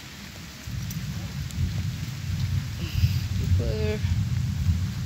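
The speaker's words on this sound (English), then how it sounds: "Gonna go up because it's raining out." Steady rain falls on a farm, a continuous soft hiss with a low rumble beneath it that holds evenly throughout, and a voice speaks briefly.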